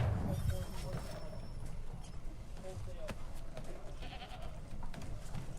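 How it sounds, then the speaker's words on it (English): A goat bleats briefly amid a bustling outdoor ambience in the video game Assassin's Creed III, with voices talking and water or creaking sounds around it. "I heard a goat."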